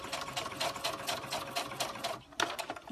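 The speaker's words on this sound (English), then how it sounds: "I'm just going to stay stitching very close to the edge." A sewing machine stitches a skirt hem close to the fabric edge, running steadily with a fast, even mechanical rhythm; the motor noise continues throughout with a brief pause near the end before resuming.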